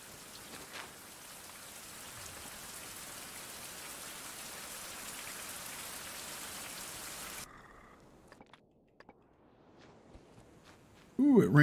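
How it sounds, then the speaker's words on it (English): Steady, dense rainfall hisses across the first seven seconds in the survival video game Struggle for Survival, then cuts off abruptly, leaving quiet scattered taps and a sharp closing noise. "Oh, it's raining again."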